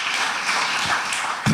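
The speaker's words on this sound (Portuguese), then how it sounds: "Então dá uma salva de palmas para Jesus" Church congregation applauding, a brief wash of steady clapping heard close and moderately loud, without talk over it.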